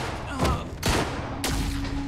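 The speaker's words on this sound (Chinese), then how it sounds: "哦，开枪了，开枪了。" Gunfire in the video game Quantum Break: three sharp, close shots spaced apart over a low rumbling backdrop, each with a quick decaying tail.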